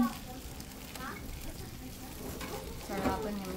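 Pork fat sizzles and bubbles steadily in a hot pan while cooking humba, a crackling frying hiss with a brief stir midway and a voice faintly in the background.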